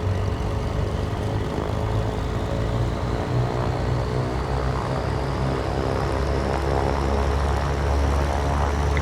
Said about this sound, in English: Engaging the starter. She comes to life. Let's listen to that 350 horsepower.